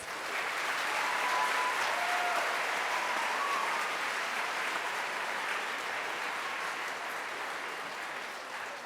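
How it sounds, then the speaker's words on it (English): A steady round of applause for veterans at a high school Veterans Day ceremony, many hands clapping in a continuous wash that holds for nearly nine seconds and tapers gently, with faint whistles or cheers over it. "Let's give our veterans one more round of applause."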